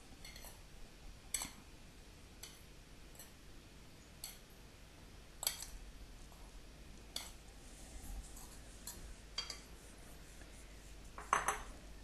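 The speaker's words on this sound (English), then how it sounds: "Now the butter is already soft at about room temperature, so I'll cut it up into small pieces" Knife cutting room-temperature soft butter into small pieces, heard as a sparse series of light, separate clicks and taps against the board, fairly faint over a quiet background.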